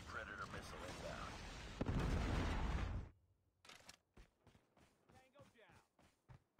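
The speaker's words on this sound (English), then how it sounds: "Friendly predator missile inbound." Predator missile strike in a Call of Duty team deathmatch: a loud, sustained roaring blast that swells into a heavier boom, then cuts off sharply, leaving scattered short clicks and game sounds with voices.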